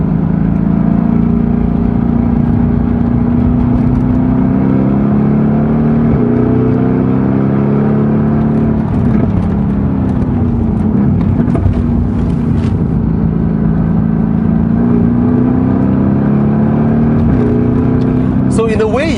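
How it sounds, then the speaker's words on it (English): Mercedes-AMG GT S exhaust burbling while driving on a winding road, a loud continuous engine drone rising and falling with throttle, with occasional sharp crackles and a person talking over it. "All you're hearing in this car is the burbling of the exhausts and of course the pops and crackles that it generates"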